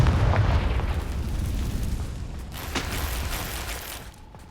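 Confringo fire spell blast in Hogwarts Legacy, a loud booming explosion right at the start that rolls into a rumbling, crackling tail and fades over several seconds, with a brief burst near the middle.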